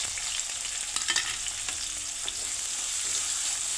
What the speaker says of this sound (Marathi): तेल गरम झालं, आपण कांदा घालून घेऊया.